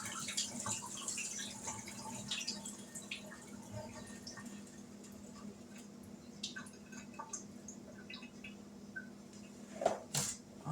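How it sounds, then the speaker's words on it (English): Water draining off cut potatoes and celery in a kitchen during ham and potato soup prep, a steady trickling wash with scattered drips and a brief louder splash near the end. "I'm going to drain this water off."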